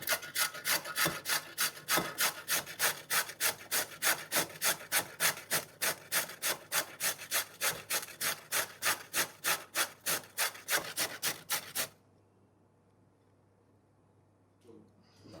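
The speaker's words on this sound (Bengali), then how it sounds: "তো গাজরটা আমার সুন্দর করে ঘষা হয়ে গেছে" Raw carrot is rubbed against a grater for halwa in a fast, steady rhythm of rasping strokes, close and distinct for about twelve seconds before stopping and leaving near silence.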